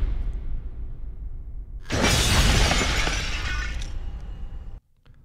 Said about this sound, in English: it begins to break up and shatter into a bunch of little pieces